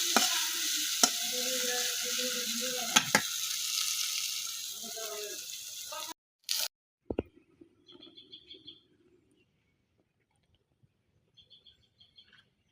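Potatoes and two dried chillies fry in a cooked spice paste, sizzling steadily for several seconds with a few stirring knocks. Then the sound cuts out, leaving faint scattered clinks and soft bird chirps.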